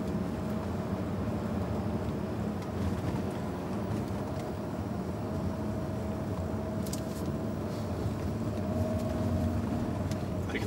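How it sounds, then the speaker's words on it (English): A 2011 Peugeot 508 SW 2.2 HDi diesel engine idles continuously with a steady low rumbling drone and a faint whine above it, unchanging throughout and heard without talking. "Hear the diesel engine purring away."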